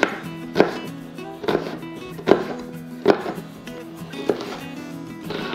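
A knife chopping an onion on a cutting board, six sharp knocks at a steady, unhurried rhythm, close and clear with no talk.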